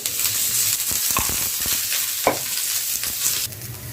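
Sliced onions frying in oil for a chutney, a dense continuous sizzle with a few quick stirring scrapes, close and fairly loud.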